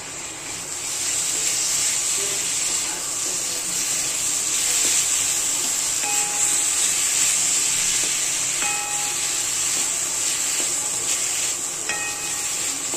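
Chopped tomatoes roast in browned masala in a pan while preparing matki misal, giving a steady, loud hiss of frying that carries through the whole stretch, with a few faint metallic clinks of a utensil.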